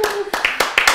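A studio audience on a Kyrgyz family-competition TV game show in Bishkek gives a brief burst of applause: a few sharp, close claps in quick succession, mixed with a voice.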